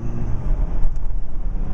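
A car rolling through city traffic on a long road trip, a loud steady low engine and road rumble with a brief hiss like an air brake from nearby traffic.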